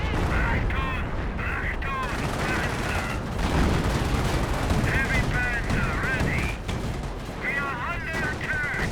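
Rapid, overlapping gunfire from a Company of Heroes 1 WWII real-time strategy battle, with bursts of automatic fire and shots running steadily and loud throughout, layered over dense battle noise.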